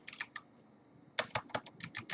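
Keys on a computer keyboard clack in quick bursts, a few taps, a short pause, then a faster run of clicks, close and fairly quiet, with no talking.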